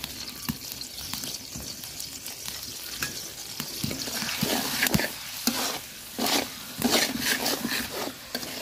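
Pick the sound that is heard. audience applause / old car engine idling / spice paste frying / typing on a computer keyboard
spice paste frying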